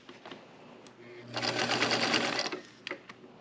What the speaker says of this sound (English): Now we're going to sew across that.